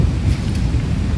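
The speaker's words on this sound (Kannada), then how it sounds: "ಸಿಕ್ಕಾಬಟ್ಟೆ ಅಲೆ ಬರ್ತಿದೆ ತೋರಿಸ್ತೀನಿ" Big ocean waves roll in at Echo Beach in Honnavar, a steady low roaring wash of surf mixed with buffeting wind noise on the microphone, continuous and loud throughout.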